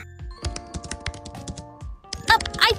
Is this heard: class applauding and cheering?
no